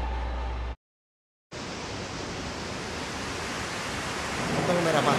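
Rushing water at a dam in Resident Evil 0 Remastered makes a steady, dense wash of broadband noise. It cuts out briefly near the start, then returns and grows slightly louder toward the end.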